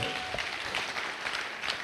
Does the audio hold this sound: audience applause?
yes